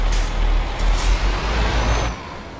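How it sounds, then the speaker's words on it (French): Air brake of a truck in Euro Truck Simulator, a loud hissing burst of air over a low engine rumble, lasting about two seconds before cutting off. "Voilà, à gauche, hop, freine."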